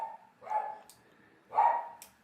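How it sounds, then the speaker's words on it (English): A small dog barks a few times in the background, faint and spaced apart, with short yips separated by quiet gaps. "My little doggy barking in the background"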